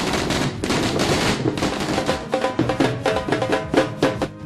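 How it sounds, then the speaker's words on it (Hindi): Fireworks crackle and bang in dense, rapid bursts at a celebration for a new Uttarakhand BJP state president, loud and close throughout, the explosions growing sharper and more separated toward the end. "आतिशबाजी का शोर"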